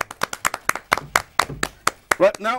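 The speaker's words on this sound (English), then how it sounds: "Come on, guys, clap for him." Studio audience clapping on a television game show, sharp scattered claps mixed in with a host's steady talk for a couple of seconds.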